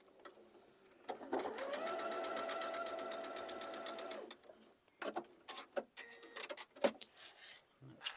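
A sewing machine stitches fabric for a quilt block in a fast steady burst of rapid needle clatter lasting a few seconds, then stops, followed by soft handling clicks and rustles of the fabric.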